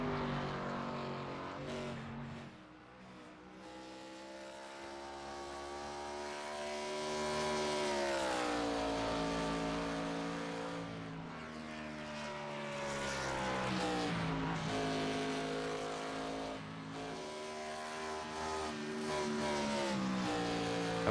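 A race car engine at an ABN AdminBoxx Cup Series race, the Henderson Graphics 200, heard from a broadcast; a loud, sustained engine tone climbs and falls in pitch as it revs and eases off, with no voices over it.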